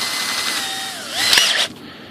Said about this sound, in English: So we've got the drill.